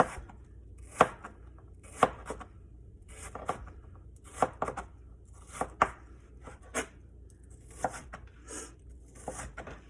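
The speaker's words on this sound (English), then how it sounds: "we like cucumber, so go ahead and cut that out" A kitchen knife chopping cucumber on a cutting board for shrimp ceviche, with crisp, irregular thuds and clicks, some in quick pairs, close by and clear over a quiet background.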